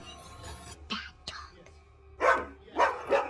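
A dog in a horror film barks several times, starting with a few sharp yaps and then building to three loud, harsh barks spaced about half a second apart, close and prominent with only quiet background between them.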